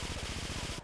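A rapid burst of gunfire rattles out in GTA 3 Definitive Edition, with evenly spaced shots forming a quick, close chatter that breaks off briefly just before it ends.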